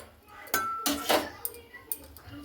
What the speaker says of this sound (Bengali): তো এরপর আমি কাঁঠালটাকে একটু নাড়াচাড়া করে নিলাম।